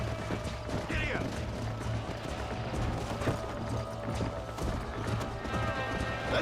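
Stallion's hooves galloping in the video game Red Dead Redemption, a rapid, rhythmic clip-clop with mechanical clatter and a brief whinny, loud and close.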